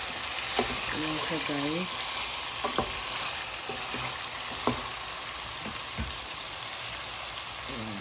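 Garlic and ginger frying in a pan for chicken gravy with onion and tomato, a steady soft sizzle with scattered crackles and pops running throughout, while someone speaks briefly over it.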